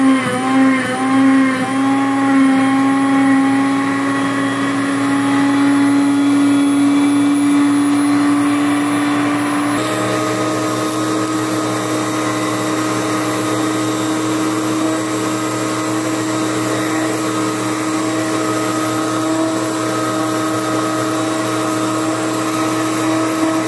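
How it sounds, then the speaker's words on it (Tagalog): A blender runs steadily on a chocolate ice cream cake mixture, its motor droning loud and continuous throughout, shifting pitch partway as the load changes, with no talk over it. "So, okay, blender na natin to."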